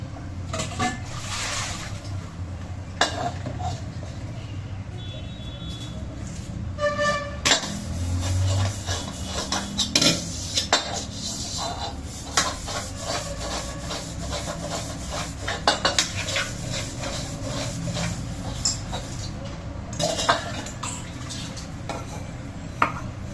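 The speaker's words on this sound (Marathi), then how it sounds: "मला 2-4 भांडे आहेत ना, घासून घ्यावा." Continuous scrubbing and scraping of pots, dishes and a pressure cooker, with metallic clinks and knocks, close and fairly loud, without any talking.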